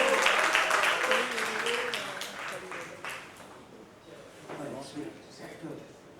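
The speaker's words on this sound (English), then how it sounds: "Can we give them a round of applause, please?" An audience applauds at a book launch, clapping loudly at first and then fading, while people talk over and after it.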